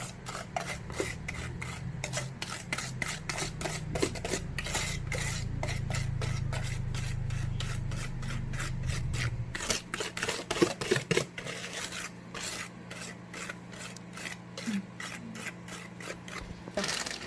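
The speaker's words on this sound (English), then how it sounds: "you're going to grab your dry ingredients and you're going to dump in the wet ingredients" Wet and dry chocolate chip walnut cookie dough ingredients being mixed in a bowl, a steady rhythmic scraping and rubbing that runs throughout, fairly close, with a low hum underneath and sharper clacks near the end.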